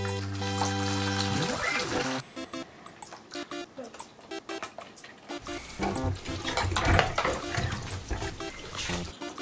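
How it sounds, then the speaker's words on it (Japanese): Water splashing and spattering in a toy bathtub during a doll's pretend bath, a run of close, uneven sploshes following a brief opening of light music. "お水が飛び散ってる。"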